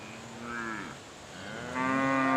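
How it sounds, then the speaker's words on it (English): A herd of cows and calves coming in on a farm, with two loud, drawn-out moos close by, one after the other, and no talk. "So we got 14 cows and 14 calves coming."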